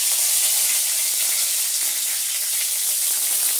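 Curry leaves frying in hot oil in a wok, giving a loud, steady sizzle with crackling hiss that fills the whole moment without a break and with no voices.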